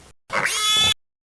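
A person imitates a pig with a single drawn-out, nasal grunting squeal lasting under a second, loud and close, alone between brief pauses.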